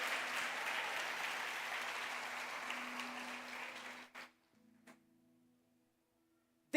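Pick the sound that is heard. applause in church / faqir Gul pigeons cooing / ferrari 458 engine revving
applause in church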